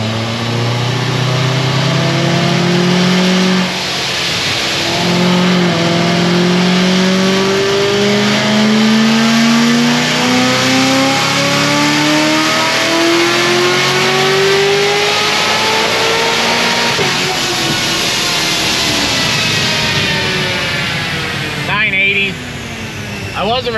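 A car engine on a dyno, doing a cold pull, revs up in one long sweep with rising harmonic tones for about twenty seconds, loud and close, then cuts off sharply and falls back to idle.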